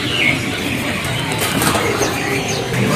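Caged birds in a bird shop, including mynahs and magpie robins, make a dense, busy background of chirps, coos and wing flutters close by.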